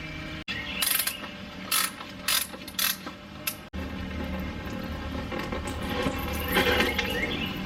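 Ratchet clicking in quick bursts while loosening the oil drain plug during an oil change on a Lexus GX460 propped on ramps, close and fairly loud, followed by continuous mechanical rattle.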